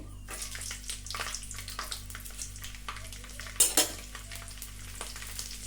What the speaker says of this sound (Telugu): ఇప్పుడు ఎల్లుల్లిపాయలు వేసుకుందామండి